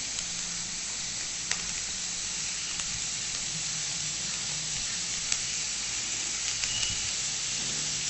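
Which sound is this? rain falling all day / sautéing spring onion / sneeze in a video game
sautéing spring onion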